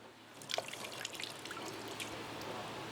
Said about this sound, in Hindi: मैंने इसको निचोड़ दिया पूरा कपड़े की तरह।